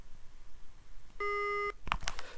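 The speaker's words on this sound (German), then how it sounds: "bekomme ich einen anderen Piepton als Signal, dass ich ihn ausgeschaltet habe" On switching off, a 3M Peltor Sportac hearing protector emits one steady, slightly lower-pitched beep lasting about half a second, close and distinct, followed by a couple of quick handling clicks.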